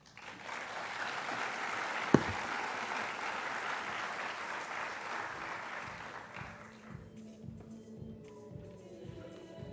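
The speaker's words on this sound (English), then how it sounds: "Let's have one more round of applause for Chef Tamir" Conference audience applauding a chef after a talk, broad, even clapping from a large crowd that fades after several seconds into scattered claps, room noise and a few faint voices.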